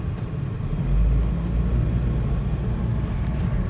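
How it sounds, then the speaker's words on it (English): A 2000 Suzuki Carry truck with automatic transmission driving, a steady low engine rumble and road drone heard from inside the cab, swelling slightly early on and then holding even. "I'm gonna go ahead and take this for a little drive for you all"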